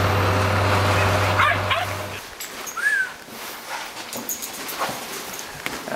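Several dogs yip and bark in short, scattered bursts at a distance over steady outdoor background noise, with a whimpering whine and a low hum that cuts out early.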